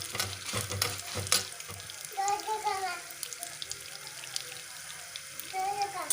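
Cumin and mustard seeds fry in hot oil with a soft crackling sizzle, broken by a few sharp clatters of utensils, while a faint voice murmurs in the background.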